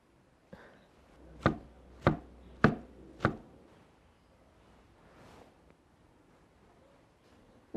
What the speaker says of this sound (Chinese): 那个春芽切好了哈